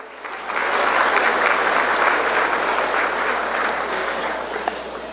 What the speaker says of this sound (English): So give a round of applause to all our donors.